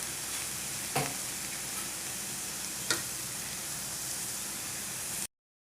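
Chili powder and spices for a crab curry fry in a pan with a steady, even sizzle throughout, broken by two faint clicks, with no voices.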